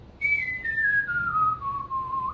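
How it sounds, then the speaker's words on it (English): A person whistles a single sustained tone that steps slowly downward in pitch, clear and close, with faint room noise beneath and no talking. "that's kind of the regular whistle"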